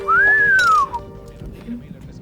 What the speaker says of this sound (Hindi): आजकल इन लड़कों का कोई भरोसा नहीं, किसे भी देखकर सीटी मारते हैं